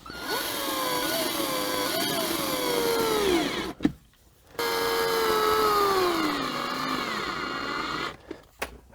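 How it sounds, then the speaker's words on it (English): Cordless drill driving short screws into a wooden platform in a minivan, two close whining runs with falling pitch as each screw seats, a brief pause and clunks between them. "Now I need to get this one screwed in to there."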